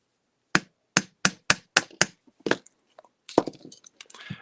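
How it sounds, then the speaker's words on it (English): A hammer strikes a block while knocking the nib and feed out of a fountain pen: about seven sharp, evenly spaced blows up close, then lighter scattered taps and handling noise. "let's see if I can pound the nib out, the feed out, without breaking it"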